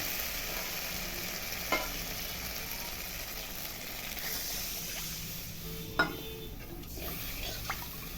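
Spiced masala for potol dhoka sizzles steadily in a pan as water is poured in, with a few faint clinks and stirring knocks over the constant frying hiss.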